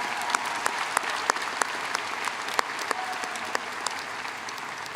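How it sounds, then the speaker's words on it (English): Audience applause at a 2023 high school graduation ceremony, a steady broad wash of many hands clapping with a few sharper claps standing out, sustained for the whole stretch with no talk over it. "One more round of applause for our student speakers, Allie and Noah."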